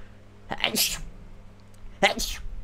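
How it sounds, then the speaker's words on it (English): Two short bursts of breathy, explosive noise, like a sneeze and a follow-up, close to the mic over a quiet low hum. "I'm gonna sneeze."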